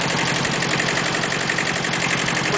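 A Kubota B7000 compact tractor's two-cylinder Z650 diesel engine running steadily at idle, with a rapid, even chugging pulse and mechanical clatter close by, the fan and alternator turning off the crankshaft, with no talk.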